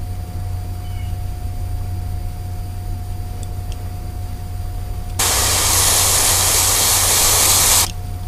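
An aerosol can sprays red paint onto a flat banger fishing lure in one loud, steady hiss lasting about three seconds, set against a quiet background hum.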